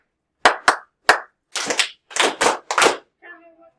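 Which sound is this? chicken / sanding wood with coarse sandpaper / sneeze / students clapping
students clapping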